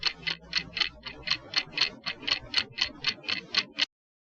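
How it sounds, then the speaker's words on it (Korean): A clock ticks heard over the phone, about fifteen evenly spaced crisp ticks in a steady rhythm, close and clear, stopping abruptly. "전화 너머로 시계 소리가 들렸습니다."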